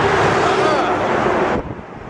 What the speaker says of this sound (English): cars and a truck barreling down on the highway as you're walking on this thing